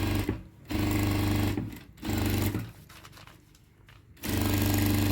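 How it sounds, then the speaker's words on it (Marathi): A sewing machine stitches a puffy blouse sleeve backed with paper in fast, loud mechanical bursts, running in three runs separated by short pauses, close and alone. "हे बघा तर आता आपण टिप मारून घेऊया"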